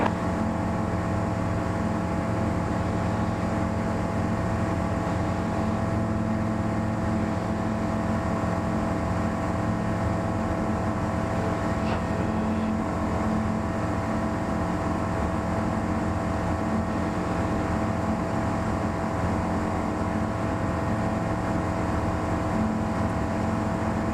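The engine of a Bristell light aircraft drones steadily and loudly right after takeoff from Moriarty, New Mexico. The tone holds even and continuous, with no talk over it.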